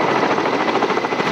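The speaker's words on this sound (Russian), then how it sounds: "Вертолет К-32 спускает на воду катер, в который десантируется экипаж." A Ka-32 helicopter hovers over the sea during a large-scale rescue exercise in Sochi, lowering a boat; its dense, continuous rotor chop and turbine roar fill the short stretch loudly without letup.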